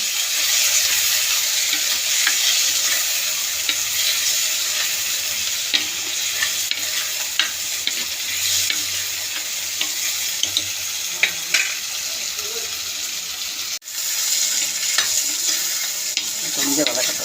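Tomatoes and green chillies sautéing in a pan for a fish curry, a steady close sizzle with scraping stirs and occasional clinks, running continuously with no talk.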